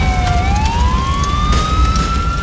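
An ambulance siren from a modded video game wails continuously, its pitch sweeping slowly upward over a loud engine-like rumble, close and prominent with no talk.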